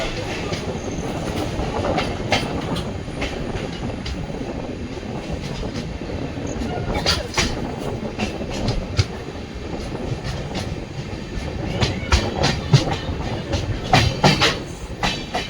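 Panchaganga Express rumbles along the rails between Kundapura and Bengaluru, a steady loud roar from inside the carriage with rhythmic clacks and bumps of wheels over rail joints throughout.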